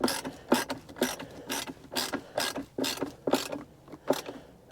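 A ratchet clicks in steady, evenly spaced bursts, about two per second, while tightening 2.5mm hex cap screws on a console vault safe in a 2018 Jeep Grand Cherokee, close and crisp with no talking.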